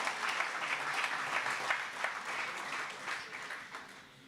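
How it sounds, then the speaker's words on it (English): An audience applauds after a memorial lecture for Professor Mototelo Alfred Mogale, a fairly soft but steady wash of clapping from a hall crowd lasting the whole stretch. "Let's clap hands again"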